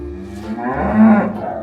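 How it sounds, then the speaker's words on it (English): A cow moos in a large field of cattle on Newcastle's Town Moor, a single close, loud, drawn-out low call that swells near the middle, heard alone. "A big field full of cattle."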